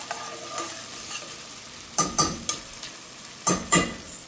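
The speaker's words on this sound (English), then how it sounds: "We're gonna let this cook until the onions start to slightly brown and the garlic and ginger." Onions, garlic and ginger fry in a pot, with soft sizzling throughout and several sharp spoon scrapes and stirs in two clusters over it; no talking.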